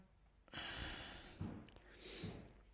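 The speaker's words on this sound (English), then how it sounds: "Breathing in and out through our nose." Breathing in and out through the nose during a full-body flow exercise class, heard as soft, airy inhales and exhales close to the microphone, rising and falling over a few seconds with no talking.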